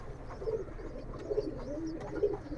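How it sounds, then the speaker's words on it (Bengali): A pall line pigeon coos softly at close range, three low, rounded coos spaced about a second apart over a quiet background, with no talking. "দেখেন কবুতরটা অসাধারণ সুন্দর"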